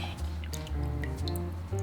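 Water is poured into a container over a dry sheet of kombu seaweed to soak, a close, continuous gurgling fill with a rising pitch and drippy splashes, briefly interrupted before it resumes.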